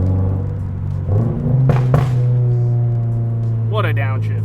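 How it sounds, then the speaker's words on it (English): A car with an FA24 engine rumbles steadily up close, with a brief rev blip during a downshift partway through and a voice talking over the engine. "What a downshift, so good."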